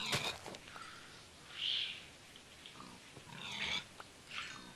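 Faint pig grunts and squeals from Minecraft come in a few short bursts, quiet and sparse against a soft background.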